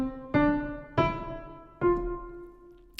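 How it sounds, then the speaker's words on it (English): A scale played staccato in short detached quarter notes on a piano, three sharp separate strikes with brief decays and gaps between them, alone with no talking. "if there were dots underneath the notes, instead of joining the notes together, I would actually make them detached"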